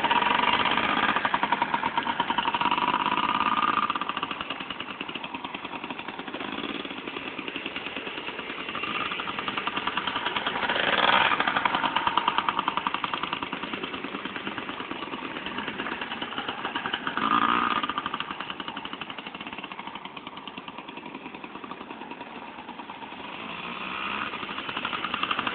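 A motorcycle on someone's very first ride idles with a steady close engine chug, swelling in a few gentle revs and settling back, continuous throughout with no talk over it.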